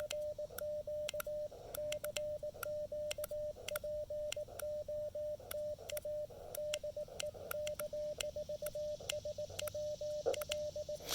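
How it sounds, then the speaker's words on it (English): A steady CW sidetone beeps in fast Morse dots and dashes, keyed by hand on a Mission RGO One radio outdoors at Lake Norman, with sharp key clicks alongside the tone, clear and continuous. "you'll hear me send CW like this"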